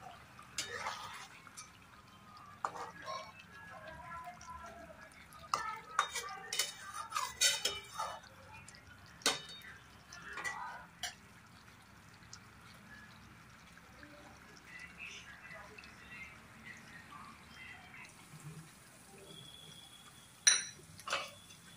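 Fried small onions are added to a pot and stirred, giving quiet clinks of a utensil against metal and soft scraping and sizzling, with scattered sharper knocks near the start and end.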